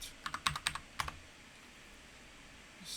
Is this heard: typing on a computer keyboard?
yes